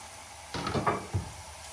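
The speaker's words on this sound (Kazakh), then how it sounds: "Осының барлығын енді бір қуырып аламыз." Chopped vegetables, beetroot among them, frying in a pan, heard as a low steady hiss with a brief louder burst of sizzling and stirring clatter in the middle.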